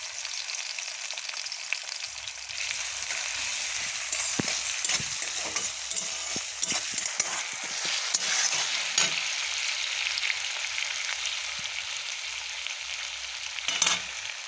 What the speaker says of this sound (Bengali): কড়াইতে দিয়ে দিচ্ছি সরিষার তেল এর মধ্যেই দিয়ে দেব কুচনো পেঁয়াজগুলো